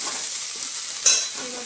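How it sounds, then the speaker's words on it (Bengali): Chopped ginger fries in a hot pan, giving a steady soft sizzle with a single brief scrape of stirring partway through, close and without talk. "আদা দিয়ে দিলাম, এবার একটু নাড়বো, আদার কাঁচা গন্ধটা যাতে চলে যায়"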